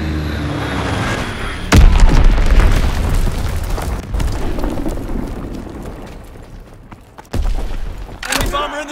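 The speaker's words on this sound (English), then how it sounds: "Enemy bomb incoming." Bombs burst in Call of Duty: WWII multiplayer, a heavy close explosion followed by rolling rumble and scattered debris, then a second blast later on, with a game announcer's voice heard early.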